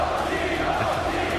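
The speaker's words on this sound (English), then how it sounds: "Crowd giving him some love." An arena audience at the MSI esports tournament cheers in a brief, even roar with no pauses.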